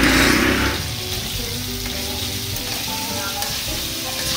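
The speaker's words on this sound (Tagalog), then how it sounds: "Piniprito mo muna ang beef." Beef sizzles and fries steadily in a hot pan as the first step of a German goulash, a continuous close crackle with a brief louder burst at the start.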